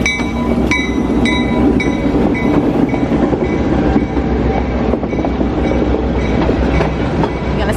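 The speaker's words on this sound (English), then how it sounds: "here's the train, guys, and you can ride on this train" A tourist train rolls past close by, loud and steady, with rhythmic clickety-clack from wheels on rail joints, metallic clanks and faint squeals carried under a continuous rumble throughout.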